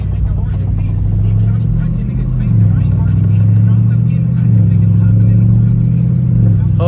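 A BMW 550i with catless downpipes, straight-piped exhaust and upgraded intakes and charge pipes drones with a deep, loud rumble that rises and swells in pitch during driving, while people talk over it.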